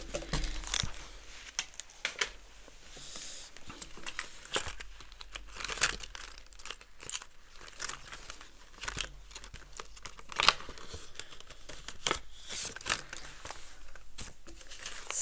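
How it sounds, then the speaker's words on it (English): Paper envelope from a batch of happy mail being pulled out and handled, close crinkling and rustling with short sharp crackles and tearing-like rips, quiet and irregular, no talk. "Let's get our little envelope out."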